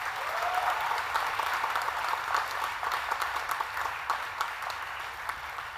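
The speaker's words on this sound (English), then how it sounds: "That deserves an applause." Steady applause from the audience at a school graduation ceremony, a dense wash of clapping at moderate volume lasting several seconds with no speech over it.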